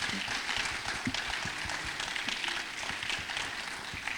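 A summit audience claps in a steady, crackling patter, loud and sustained, with a few sharper individual claps standing out.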